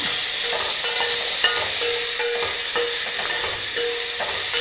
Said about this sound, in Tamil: இப்போ நம்ம தக்காளி போட்டுக்கலாம். தக்காளி நல்லா வதங்கட்டும்.